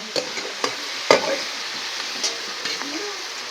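Onion being sautéed in a home pan with a few spoon-against-pan stirring knocks over a soft, steady sizzle; close and moderately quiet, no voices.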